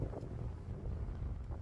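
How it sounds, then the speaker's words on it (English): Steady wind blowing outdoors around a parked van, a continuous low rumbling buffet of moderate loudness that fills the whole stretch with no voices. "apart from the wind, obviously"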